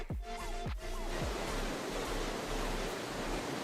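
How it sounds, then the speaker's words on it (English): A fishing video game plays a steady rushing waterfall ambience, a broad continuous wash of falling water that holds constant throughout, with a few brief tonal game sounds near the start. "And that waterfall just like kicked in out of nowhere."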